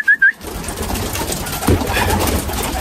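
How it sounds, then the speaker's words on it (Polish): Pigeons coo softly inside a loft during the moulting season, a few low murmuring calls under steady background noise, with a brief whistle-like chirp at the start. "Tam im tu damy, zobaczymy"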